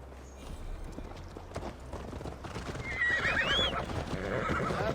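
A horse in Assassin's Creed Valhalla whinnies loudly over steady clip-clopping hooves as Eivor mounts up, the neigh rising near the end above the galloping rhythm.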